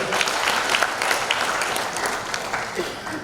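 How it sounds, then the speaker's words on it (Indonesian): An audience at a talk show bursts into dense, sustained applause, many hands clapping together at close to moderate distance. "Tepuk tangan untuk tim 9."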